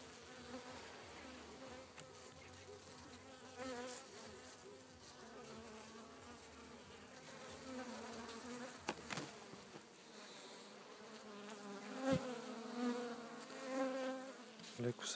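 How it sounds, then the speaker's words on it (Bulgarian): Honeybees buzz in an opened hive, slightly agitated, a dense steady drone with a few louder swells, heard close and alone. "и са леко възбудени пчелите."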